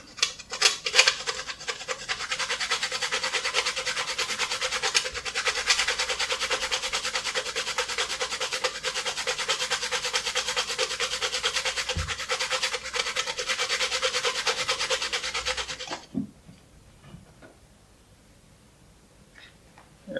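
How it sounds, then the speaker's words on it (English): Nutmeg is rubbed against a grater in a steady, continuous rasping scrape, close and fairly loud, lasting about sixteen seconds before stopping abruptly, followed by near quiet with faint handling sounds and no talking. "now we're going to grate our nutmeg"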